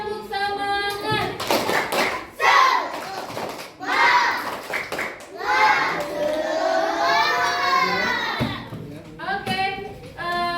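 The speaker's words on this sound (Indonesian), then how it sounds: "Semuanya tepuk semangat." Schoolchildren in a classroom perform a rhythmic spirit clap, bursts of clapping mixed with loud chanting and shouting voices, close and lively throughout.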